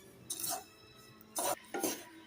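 Semolina (rava) frying in a pan while being stirred for rava laddu: three brief, bright scraping strokes against the pan, close and distinct, with quiet gaps between them.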